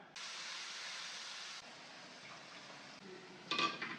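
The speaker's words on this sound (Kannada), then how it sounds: "ಎಣ್ಣೆ ಕಾದಿದೆ, ಒಂಚೂರು ಫ್ರೈ ಮಾಡಿಕೊಂಡು" Ground mint paste frying in heated oil in a pan, a bright sizzling hiss that starts abruptly and then settles lower, followed by a brief clatter of a utensil against the pan near the end.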